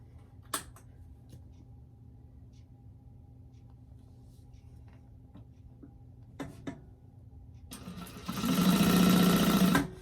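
A sewing machine stitching a convertible pack bag sits in a quiet room with a couple of faint ticks, then starts up and runs loudly near the end in a steady mechanical whir, with no talk.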